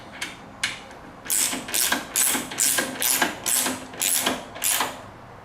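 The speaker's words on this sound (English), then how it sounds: "Get your 12mm socket and go ahead and tighten it down." A 12mm socket wrench ratchets while tightening a bolt on a Honda VTX 1300R motorcycle, giving about eight crisp, close clicking bursts in a steady rhythm with short pauses between strokes.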